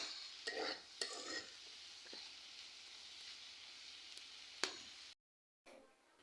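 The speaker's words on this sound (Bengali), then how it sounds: "আমি এখন ভাজিতে সসপাতা দিয়ে দেব আর একটু নাড়াচাড়া দিয়ে নামিয়ে নিব" Bean bhaji being stirred in a pan with a soft frying sizzle, a few sharp scrapes and clinks of a spatula against the metal, then a short dropout of silence near the end.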